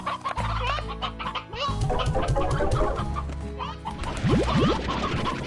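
Hens in the farming game Slime Rancher cluck in a busy flock, overlapping quick calls and squawks close by and fairly loud, with a few sharp rising calls near the end and faint talk mixed in.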